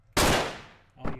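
A single sharp, loud gunshot from the top-down video game Hotline Miami 2: Wrong Number, with a long decaying tail and a second, quieter shot following about a second later.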